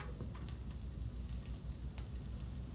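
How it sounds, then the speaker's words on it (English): Wagyu steak bites frying on a hot grill give off a steady, close sizzling hiss with faint crackles, running unbroken and fairly quiet throughout. "Oh, it's sizzling."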